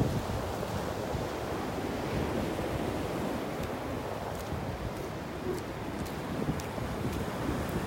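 Gulf of Mexico waves roll onto a shell-strewn beach in North Naples, Florida, a constant broad roar of surf with wind buffeting the microphone, holding steady with no talk.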